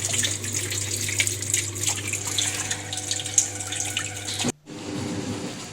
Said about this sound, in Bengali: মেশিন জল নেওয়া চালু করেছে